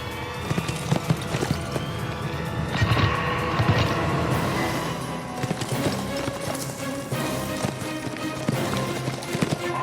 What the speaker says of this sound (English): he's on a horse